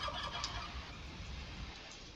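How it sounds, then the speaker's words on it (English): Turkeys gobble in a video game set on a San Francisco Bay map, faint, overlapping gobbles and clucks heard over a constant background wash of game ambience. "So Peter Host collecting a lot of turkeys here in this area."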